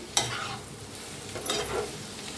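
Potato curry (aloo sabzi) is stirred in a pan, giving soft scraping strokes and a faint sizzle, with two brief clatters of the spoon against the pan.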